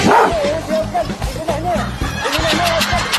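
A dog barks and yips in quick repeated bursts close by, with whimpering tones, while people talk over and between the barks.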